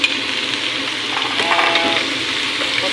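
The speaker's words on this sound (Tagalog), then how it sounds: "lalagay natin siya dito sa ating red olive oil para hindi maging sticky" Drained fettuccine pasta tossed into hot red olive oil gives a steady, close hissing sizzle with faint stirring clatter, no talking.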